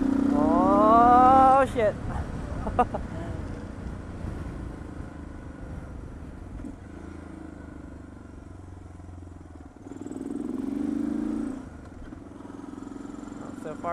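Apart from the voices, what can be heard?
Suzuki DR650SE motorcycle accelerating at wide open throttle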